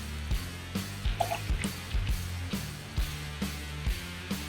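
Water is poured in a thin stream to start mead yeast, with a steady splashing trickle and regular, rhythmic drips and glugs, close up.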